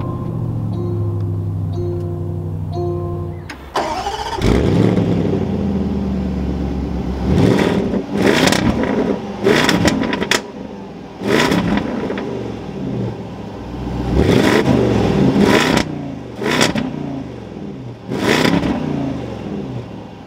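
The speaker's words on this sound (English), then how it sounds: "keeping my foot on the brake, we can go ahead and fire it up" A 2022 Land Rover Defender 110 V8 Carpathian fires up with a starter crank and roar, then settles to idle before a series of sharp, loud revs that swell and fall repeatedly, heard alone without talk.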